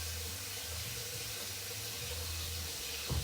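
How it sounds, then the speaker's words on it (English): Water runs steadily from a tap while hands are washed at a kitchen sink, a quiet, even hiss and splash that continues throughout, ending with a brief low thump. "Then I gotta wash my hands really quick."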